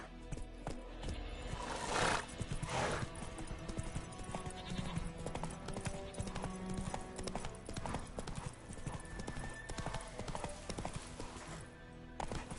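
Roach, Geralt's horse in The Witcher, gallops in a fast, steady clip-clop of hooves, loud and close, with a brief whinny-like burst early on and game ambience underneath.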